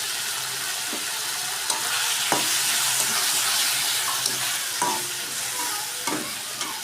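Ginger, garlic and green chilli paste fries in hot oil with a loud, dense, continuous sizzle. A utensil scrapes and taps the pan now and then, close up, and no one speaks.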